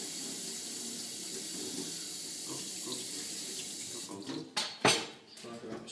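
A kitchen tap runs in a steady hiss while vegetables are rinsed for a pasta salad, ending in splashy, uneven bursts as things move under the stream, with faint talk in the background.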